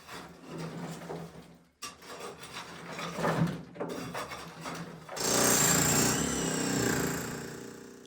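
Floor work moves from hammering to shoveling, with rough, grinding scrapes and impacts in bursts broken by short pauses, ending in a sustained, loud, gritty rasp of material being scooped and dragged.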